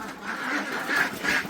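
A duck quacks outdoors on a farm where goats are kept, giving a few loud, nasal calls in quick succession close by. No one speaks.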